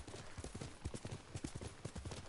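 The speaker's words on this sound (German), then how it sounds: "Das ist ein braves Pferd, Kage." Steady clip-clop of horse hooves trotting in a quick, even rhythm, fairly close and clear, with faint game-like ambience behind, in the video game Ghost of Tsushima.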